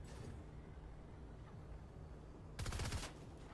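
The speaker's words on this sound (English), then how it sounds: "we hear some gunfire" Distant automatic gunfire in a Fortnite match, a faint steady background with one short burst of rapid shots near the end.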